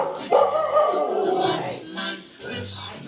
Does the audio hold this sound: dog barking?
yes